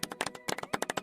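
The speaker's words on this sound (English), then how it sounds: "Clap for you" A short burst of hand clapping, about a dozen quick, close claps in an uneven rhythm lasting around a second.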